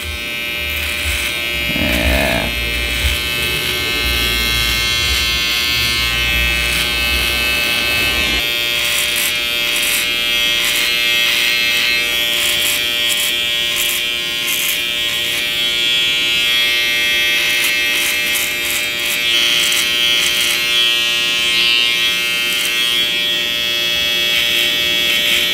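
An electric hair trimmer buzzes steadily and close during a skin fade haircut, a continuous high whine that shifts slightly in pitch as it moves over the head.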